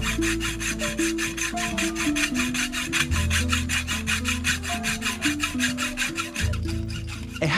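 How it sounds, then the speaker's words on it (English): Hacksaw blade rasping through a metal chain at a prayer camp, rapid even back-and-forth strokes, close and continuous with no talk. "A hacksaw blade cuts through a chain that held the legs of over 30 people"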